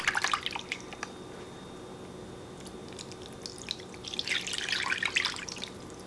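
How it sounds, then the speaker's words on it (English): Water pours into a pot over pork belly for pot-cooked lechon kawali, splashing and trickling in two bursts separated by a quieter stretch of dripping, close and fairly clear with no talking. "And I'm going to add water that's enough to cover it."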